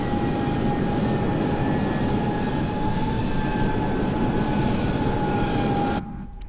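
Robinson R66 turbine helicopter engine in a flight simulator, droning with a steady loud whine and rumble that cuts off abruptly near the end as the engine shuts down.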